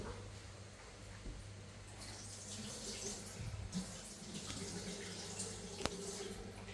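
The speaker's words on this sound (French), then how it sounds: "il faut rincer le poivron" Tap water runs steadily over a bell pepper being rinsed in a kitchen sink, a continuous soft splashing hiss with small drips, fairly quiet and alone.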